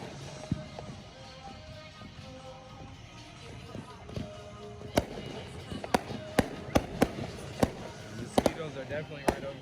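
Fourth of July fireworks show in Madison, Wisconsin, with distant booms and sharp cracks that grow more frequent in the second half, over a busy crowd murmur and nearby talk.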